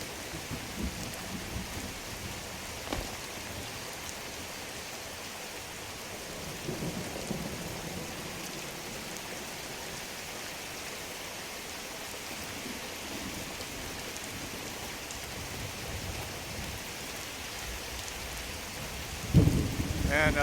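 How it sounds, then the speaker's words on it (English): Steady rain and low rolling thunder in the video game Skyrim, a constant soft wash of rainfall with rumbles building, ending in a louder thunder crack near the end. "It is raining again."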